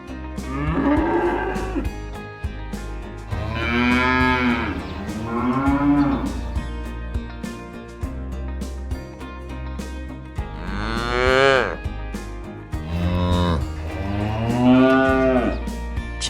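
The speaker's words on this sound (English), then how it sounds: "Buffalo." A buffalo moos in long, deep, drawn-out calls, four or five bellows in two clusters, loud and close with a steady low rumble underneath and no voices.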